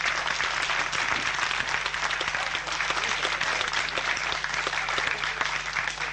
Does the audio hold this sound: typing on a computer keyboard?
no